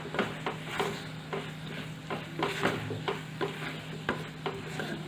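Spoon stirring ground red chilli powder and coriander-cumin powder together in a bowl, with repeated scraping strokes in a steady rhythm, close and fairly quiet, with no voices.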